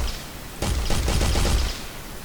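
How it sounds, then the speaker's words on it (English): A test weapon fires in Unreal Engine 4.15 as a loud burst of rapid gunshots that starts partway in and runs for over a second before stopping. "So every time I fire, we should see hello come up on the screen"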